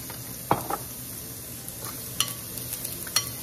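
Pork sautéing with garlic and onion in a pan for Filipino menudo, a soft steady sizzle broken by a few sharp scrapes and clinks of stirring, close and moderately quiet, no talking.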